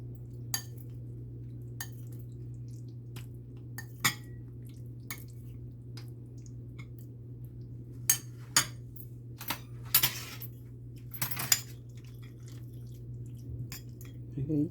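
Spoon clinks and scrapes against a bowl while ingredients for tutti frutti are mixed, a faint steady hum underneath, with scattered light taps and a brief cluster of clatters toward the middle.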